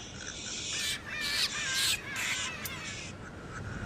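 Egrets at a seaside breeding colony give harsh, croaking calls in a series of overlapping bursts, fairly distant and moderately faint over a soft background hiss.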